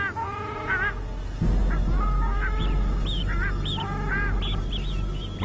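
A male duck gives repeated loud, nasal honking alarm calls on the Hexigten grassland in China as eagles appear overhead, several short calls in quick bursts, close and clear with no talk.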